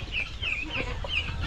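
Free-ranging farm chickens cluck in quick, repeated high calls close by, several birds overlapping against a low outdoor background.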